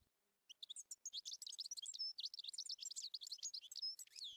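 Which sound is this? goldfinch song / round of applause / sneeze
goldfinch song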